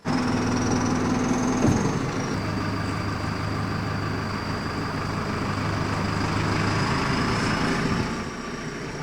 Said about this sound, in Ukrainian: Це екскаватор, який допомагатиме в ремонті підземних тепломереж.